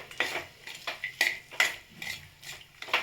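Peanuts, raisins and cashews are stirred into sabudana khichdi, a series of about eight quick, light scrapes and clinks of a spoon against the pan in a loose rhythm, quiet and close.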